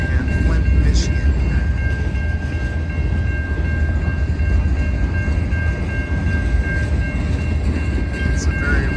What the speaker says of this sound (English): It's a very rare double departure from the Port Huron terminal.